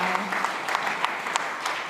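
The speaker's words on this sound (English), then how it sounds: "Please give her a round of applause." Audience applause at a food summit panel, a steady wash of many hands clapping at moderate distance, fairly soft, with a few sharper individual claps standing out.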